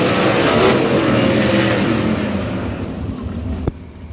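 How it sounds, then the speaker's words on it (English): Sprint cars at Humboldt Speedway roar past in a heat race, a loud engine rumble that gradually fades away as the pack moves off down the track. "Heat race number 2 rumbles down the backstretch."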